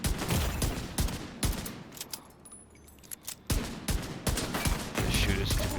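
Gunfire in the video game Division 2, with a player firing an exotic Regulus pistol: repeated loud, sharp shots scattered across the span, some in quick succession, with a short quieter gap in the middle.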